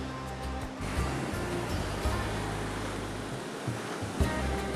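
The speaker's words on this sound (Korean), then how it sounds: "해가 지면서 파도가 거세지는데요." Rough ocean surf at sunset off Chennai, India, during net fishing: a continuous broad roar of waves with low rumbling swells and occasional surges, fairly loud and without speech.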